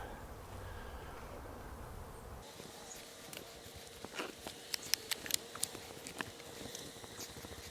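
Honey bees buzz around an open hive while honey supers are lifted off, a steady insect drone with scattered sharp clicks and knocks from handling the boxes, close by and fairly quiet.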